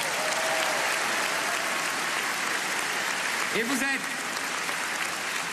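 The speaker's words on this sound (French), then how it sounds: "On vous applaudit aussi." Dense crowd applause at a French right-wing political rally, steady and loud throughout, with a brief voice breaking through near the end.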